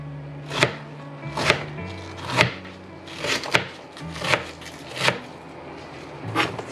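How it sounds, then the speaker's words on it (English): Knife chopping cabbage finely on a board for a slow-cooked chicken and vegetable soup, about nine sharp, evenly spaced chops, close and clear with no talk. "So we're gonna just chop this finely."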